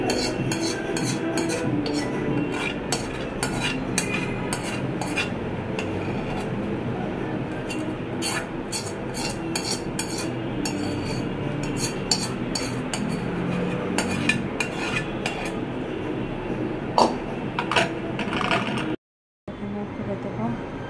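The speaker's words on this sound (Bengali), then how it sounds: "এখন আম সত্যগুলো আমি প্লেটে সার্ভ করি।" Steady clinking and scraping of utensils against a plate and dishes while serving mango leather (aamsotto), a continuous busy clatter of small metallic taps throughout, close by, with a brief dropout near the end.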